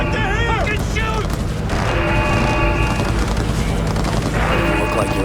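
Shootout in the Cyberpunk 2077 video game, with dense gunfire bursts and booming impacts running throughout under shouting voices, loud and continuous with little pause.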